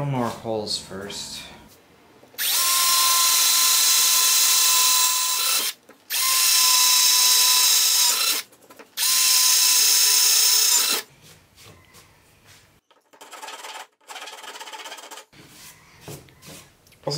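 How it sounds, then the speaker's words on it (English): A power drill bores holes into wood in three long, loud, whining bursts separated by short pauses, with quieter handling sounds and people talking before and after. "Drill more holes first."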